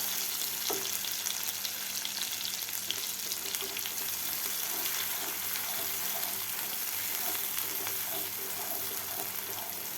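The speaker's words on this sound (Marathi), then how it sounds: "मसाला आपल्याला आहे चार ते पाच मिनिट मिडियम गॅसवर व्यवस्थित परतून घ्यायचा आहे" Masala sautés in a pan over a medium gas flame, making a steady, dense sizzle with faint stirring scrapes that continues without a break.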